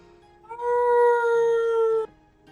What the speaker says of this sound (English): You hear this massive howl of a death scream from the dog as it burns to cinder.